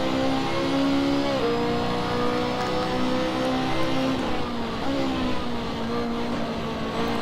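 Race car engine in Assetto Corsa revving hard and loud throughout, pitch climbing then dropping sharply at a gear shift and climbing again, a continuous close engine roar with no talk.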